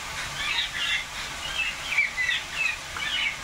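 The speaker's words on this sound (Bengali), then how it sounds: "পাখি বারান্দা দিয়ে ভর্তি হয়ে গেছে" Small birds chirp in quick, high repeated tweets from a veranda, fairly faint and steady over a quiet background with no talking.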